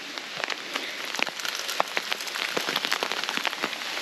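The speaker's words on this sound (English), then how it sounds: "It's starting to rain." Rain patters outdoors on a backpacking traverse in New Hampshire's White Mountains, with a constant hiss and frequent close drops tapping irregularly on nearby surfaces or gear, and no talking.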